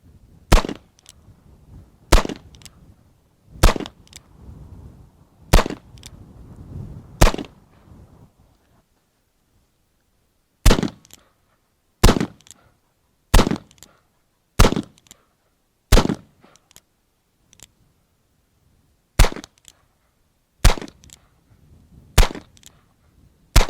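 .45 Schofield rounds fire from a Cimarron 73 Single Action Army revolver at an outdoor range: about fourteen sharp, loud, close reports come in clusters with short gaps between them, and faint rustling fills the pauses.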